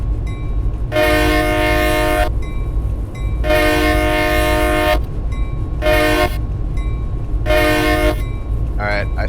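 A train passes on a railway at winter sunset, its horn sounding in four loud harmonic blasts of varying length over a steady rumble of wheels and rolling cars, with no talk.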